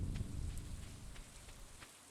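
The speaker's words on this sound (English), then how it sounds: "that thunderstorm pretty loud." Rain patters steadily during a thunderstorm in the Stardew Valley video game, a soft continuous hiss with scattered drop ticks and a low rumbling undertone that fades slightly at the end.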